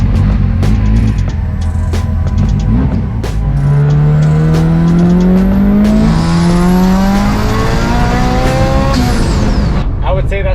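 A 700 WHP Mitsubishi Evo with stiffer springs and a new tune accelerating hard on a pull, loud engine tone climbing through the gears with shifts, a close and aggressive roar.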